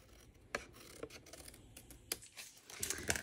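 Scissors trim the edge off a paper card: quiet, close, crisp snips and rasping cuts at irregular intervals, growing busier toward the end.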